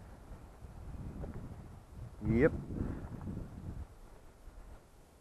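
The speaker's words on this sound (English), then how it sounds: "it's just too windy" Wind blows across an outdoor yard, a steady low rumble and buffeting against the microphone, with a brief gust and a person speaking a single short word midway.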